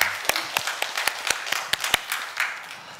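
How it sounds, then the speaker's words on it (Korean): A church congregation gives a round of applause to God during a Sunday sermon, the individual claps sparse and uneven, rising to a few sharp louder hits over a soft room background. "하나님께 영광의 박수 올려드리겠습니다"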